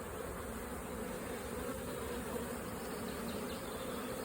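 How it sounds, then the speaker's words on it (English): Honey bees fanning at a hive entrance and flying back in, a steady close buzzing hum that holds evenly throughout. "Just pulling those bees out of the air back to the hive entrance."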